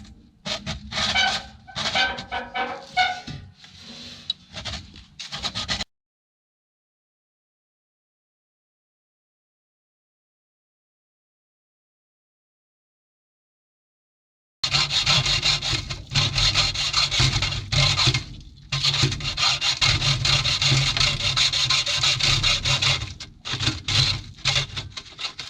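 A saw cuts an exhaust stack pipe on a 1947 GMC 1.5-ton truck, with close, rapid back-and-forth rasping strokes in two long stretches separated by a silent gap.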